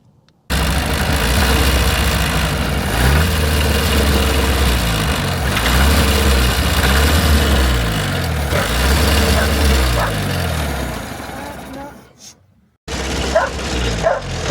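A Soviet GAZ-69 engine running on a gravity-fed carburettor idles loudly and close by for about twelve seconds, then cuts out before a brief restart of noise. A dog barks intermittently through the running.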